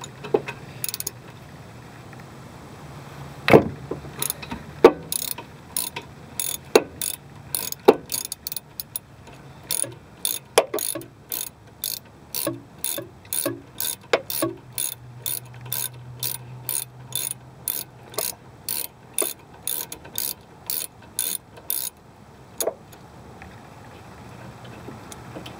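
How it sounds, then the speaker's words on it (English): A 13/32 ratchet with an extension loosens a rear brake caliper bolt, giving a few heavy initial clicks, then a long, even train of rapid ratchet clicks, loud and close, with metallic clanks near the start. "13/32 ratchet with an extension so that you have enough leverage, and you wanna make sure you're loosening it."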